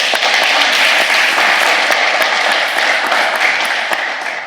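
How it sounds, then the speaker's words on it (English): Sustained applause from an audience at a talk event, a dense even wash of many hands clapping that stays loud throughout and tapers slightly at the end. "Let's give a round of applause."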